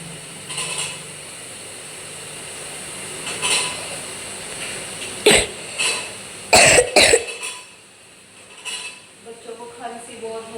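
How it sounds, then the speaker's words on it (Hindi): A sick child coughs in a home kitchen while a meal is being cooked. A few sharp coughs cluster near the middle, with utensil clatter and household noise around them. "बच्चों को खांसी बहुत हो रही"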